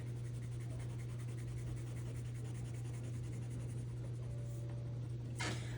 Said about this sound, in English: you can shade in the face with whatever color you would like